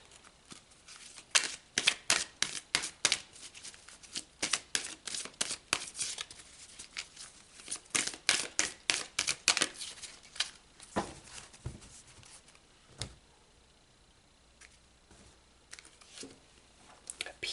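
Tarot cards being shuffled and pulled from a deck during a reading, a rapid run of crisp close flicks and riffles that thins out into a few scattered taps near the end.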